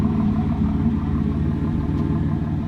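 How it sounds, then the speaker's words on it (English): A GM car engine idles through its dual exhaust with a deep, steady rumble, close and constant for the whole stretch, with no voices over it. "That dual exhaust still sounds good"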